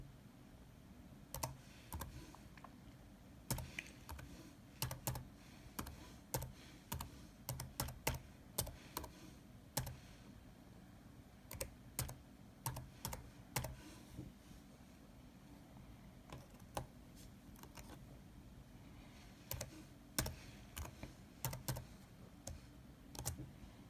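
Computer keyboard keys clatter in irregular bursts of quick clicks with short pauses, close and fairly quiet over a low steady room hum, while someone types out an email.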